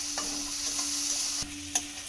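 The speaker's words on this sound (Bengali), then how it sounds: "দিয়ে একটুখানি জাস্ট ভেজে নেব কাঁচা গন্ধটা যাওয়া পর্যন্ত" A paste of cumin, turmeric and chili sizzles gently in a pan, with soft frying hiss and a few scraping stirs and light clinks from a utensil, fairly quiet and close.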